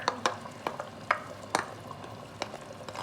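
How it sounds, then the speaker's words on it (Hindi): Beef frying with ginger, garlic and spices as yogurt goes in: a soft background sizzle broken by sharp clinks and scrapes of a spoon against the pot, spaced irregularly. "अब हम इसमें दही डालेंगे"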